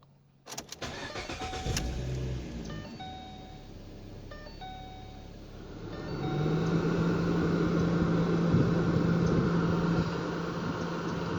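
A 2014 Ford Mustang 3.7L V6 cranks with clicks and chimes, catches, then settles into a steady, fairly loud idle with the AC switched on.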